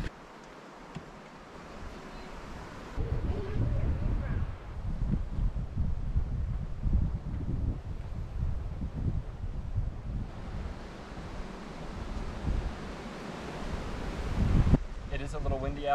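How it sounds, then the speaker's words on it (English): Wind gusting outdoors beside a creek at a Colorado wilderness campsite near the Black Canyon of the Gunnison, a steady low rumble and rush across the microphone that swells stronger after the first few seconds and runs throughout. "It is a little windy out"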